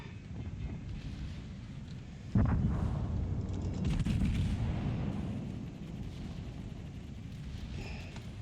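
Naval combat in a video game, 5-inch shells striking an enemy ship, heard as a sudden booming impact followed by continuous rumbling blasts and roar that slowly fade, with no talking.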